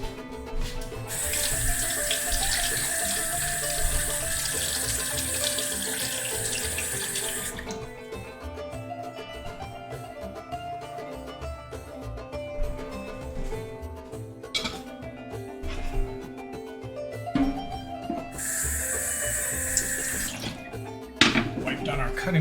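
Tap water running into a kitchen sink while a knife is washed, with a steady hiss of flow in two bursts, occasional clinks, and a person talking throughout.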